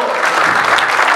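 Brief, dense applause from a church congregation, steady and loud throughout, with no talk over it.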